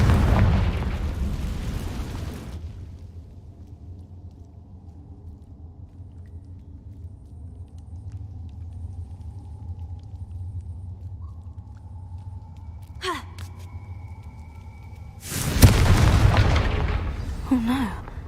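A Confringo spell explosion in Hogwarts Legacy, a heavy blast at the start that fades into a long low rumble, a few faint thuds in between, then another loud burst near the end.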